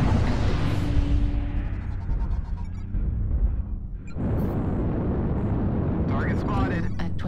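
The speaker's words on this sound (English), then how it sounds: "Artillery strike." Heavy explosions from an artillery strike in the mech combat game MechWarrior Online rumble loudly, a big blast fading out over a few seconds before another deep boom and sustained roar, with a voice speaking over it.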